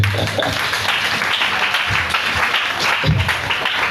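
A church congregation applauding fills the space with a loud, dense, continuous wash of clapping that holds steady from start to finish.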